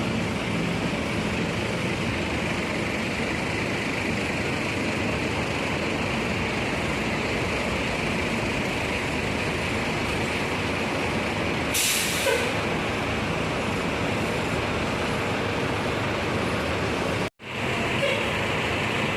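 Bus terminal ambience with a constant loud engine and air rumble from buses, a brief hiss of air brakes releasing partway through, and a sharp cutoff near the end; no talking.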